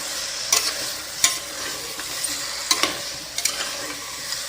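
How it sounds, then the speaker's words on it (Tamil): Mutton curry masala frying and being stirred in a pan over low flame, a steady soft sizzle broken by several sharp scraping strokes of a spoon spaced about a second apart, close and alone with no voices. "அப்பப்போ கிளறி விடுங்க ஒரு நிமிஷத்துக்கு ஒரு தடவை கிளறி விடுங்க"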